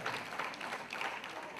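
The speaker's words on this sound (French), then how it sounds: "on applaudit très très fort pour le vice-président du conseil paroissial" A crowd applauding for the parish council vice-president, a soft, distant patter of many hands clapping that stays faint and steady throughout.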